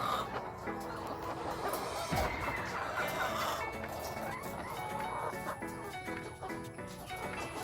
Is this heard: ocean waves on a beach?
no